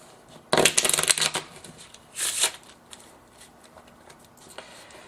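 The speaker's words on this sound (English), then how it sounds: "Then I give them another shuffle." A deck of playing cards is riffle-shuffled up close, a loud rapid flutter lasting about a second, followed by a shorter second burst as the cards are squared, then quiet handling.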